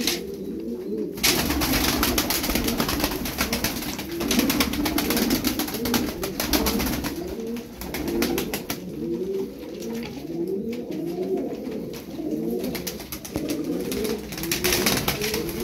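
Tumbler pigeons coo in steady, overlapping bursts throughout, a dense chorus of soft rolling calls close by with constant background noise and no talking.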